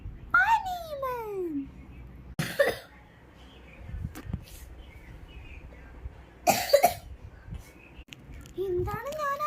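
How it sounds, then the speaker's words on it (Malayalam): A child coughs in two short, sharp bursts, with babbling and child vocal sounds in between, close and fairly loud. "ഒരു കൊച്ചു ചുമക്കുന്നതല്ല"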